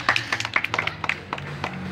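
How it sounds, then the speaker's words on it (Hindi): Scattered hand claps from a small group of onlookers greet the builders of a water-powered car, a brief, uneven burst of separate claps nearby. "इस भाई के लिए तालियाँ, तालियाँ जनाब,"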